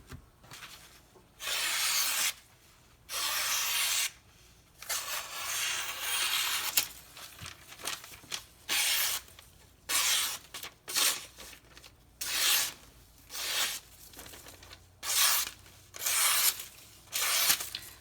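Microtech UTX-70 knife being stropped on a thick leather DLT strop: repeated rhythmic rubbing strokes, close and moderately loud, about a dozen passes with short gaps between them and no talking.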